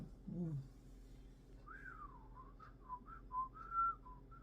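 A man whistles softly up close, a rising and falling glide followed by a few short chirpy notes. Quiet background surrounds the whistle, and a brief low vocal sound comes before it.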